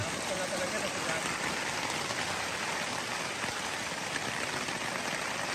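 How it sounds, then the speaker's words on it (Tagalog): Heavy rain pours down in a dense, constant hiss, loud and unbroken from start to finish, at a backcountry campsite at Maple Leaf Lake. "Lakas ng ulan."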